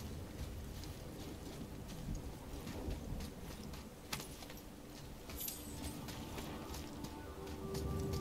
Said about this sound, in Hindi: तूफान आ रहा है यहाँ पे.